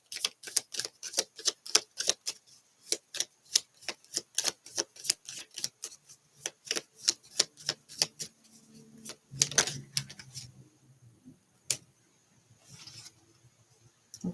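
Oracle cards are shuffled by hand in a rapid run of crisp, close clicks and riffles, then a pause, a denser burst of shuffling and a few scattered taps.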